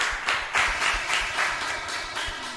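An audience applauds a radio station's media team, a steady patter of hand claps with soft swells, fairly close and without talk.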